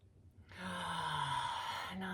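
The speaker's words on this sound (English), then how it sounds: "Last time, deep breath in." A deep breath drawn in during a somatic centering practice, a steady close airy inhale that carries on for over a second and a half above a faint low background hum.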